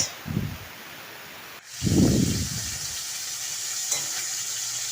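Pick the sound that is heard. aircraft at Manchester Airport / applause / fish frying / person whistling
fish frying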